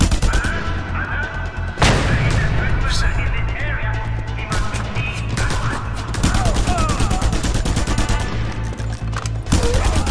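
Rapid gunfire from the video game Just Cause 2 crackles almost continuously in dense bursts, with sharp louder shots near the two-second mark and again near the end, over game noise and voices.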